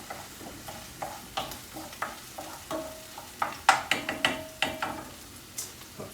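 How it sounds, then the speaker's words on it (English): Chopped garlic stirred in a sizzling pan with a utensil, giving a steady crackle of frying under a series of irregular clinks and scrapes against the pan, close and moderately loud. "Just give it a quick stir."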